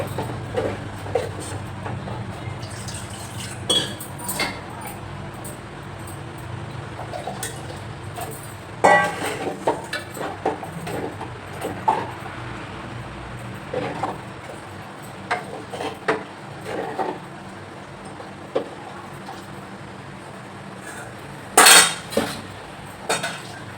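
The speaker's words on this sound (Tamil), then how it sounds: "கிண்டிக்கிட்டே இருக்கணும் இல்லைன்னா பிடிச்சிப்போம்" A pot of kambu koozh, millet porridge, is stirred steadily, giving soft scraping and clinking against the pot, with a louder metallic knock near the end.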